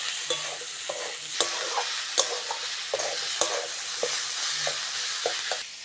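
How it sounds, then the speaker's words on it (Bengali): Ginger garlic paste fries with salt, turmeric and chili powder, giving a bright, steady sizzle. Regular scraping taps from the spoon stirring the pan sound close and clear. "মশলার সঙ্গে আদা রসুন বাটাটা ভালো করে ভেজে নিয়েছি"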